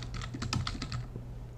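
Quick, light clicking of keys on a computer keyboard, a steady run of soft taps close by over a low background hum, with no talking.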